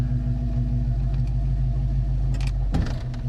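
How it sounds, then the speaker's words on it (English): A 1974 AMC Javelin with a worn-out rear end idles with a low steady rumble, then a single sharp clunk sounds as it shifts into reverse, followed by the engine running on. "That's the sound that you hear when you go into reverse."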